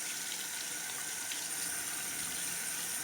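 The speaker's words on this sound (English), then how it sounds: "the last thing I'm going to do is wash my face" A bathroom tap runs steadily while someone washes their face, giving a constant close hiss of flowing water with no breaks and no talking.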